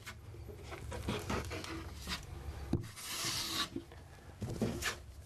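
Drywall joint compound being spread across a wall with a knife, giving soft rubbing and rasping scrapes in uneven strokes, fairly close and moderate in level.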